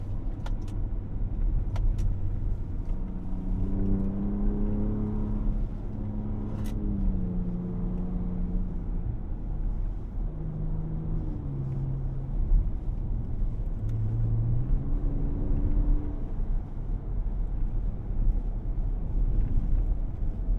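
Cabin of a 2024 Ford Ranger Raptor on the move in sport mode: a steady low engine drone and road rumble with shifting gear tones, light wind noise and the occasional thump over bumps, heard up close with no talking.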